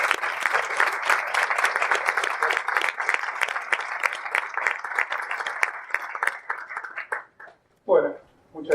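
Warm applause from a congress audience greeting a speaker, close, lively clapping with distinct individual claps, dying away after about seven seconds before a voice starts speaking.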